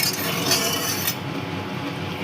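A spoon stirs salt into hot mustard-fish frying oil in a pan, a dense steady sizzle with faint metallic clinks, easing slightly partway through.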